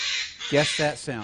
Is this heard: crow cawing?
yes